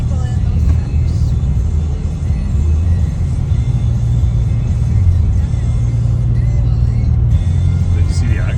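Trucks driving past on a road, a heavy continuous low engine rumble with rising and falling passes, loud and close, with people talking faintly over it.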